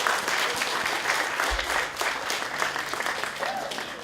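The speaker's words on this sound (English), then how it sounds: "give the children a round of applause for doing a great job showing up here today" Steady applause from a crowd for the children at a charity walk, sustained clapping throughout at moderate distance.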